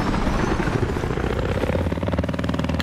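Helicopter rotor chopping steadily and loudly throughout in the video game Battlefield 4, a dense continuous engine roar with a pulsing rotor beat growing clearer near the end.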